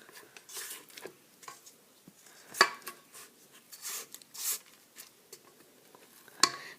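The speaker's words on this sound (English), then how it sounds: "Scrape the edges." Spatula scraping around the sides of a bowl of chocolate chip cookie dough, a run of soft irregular scrapes and taps with a few sharper clinks against the bowl, close and fairly quiet.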